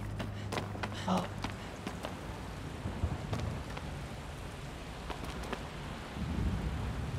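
Steady rain pours through a thunderstorm in Shadow of the Colossus, with a low rumble of thunder rolling underneath and scattered sharp drip-like ticks across the wash.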